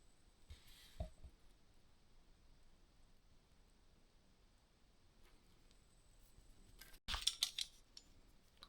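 A quick, close snip of scissors trimming the tag end of fishing line on a barbel river rig, a short crisp burst of clicks after a long near-silent stretch with a faint earlier tick.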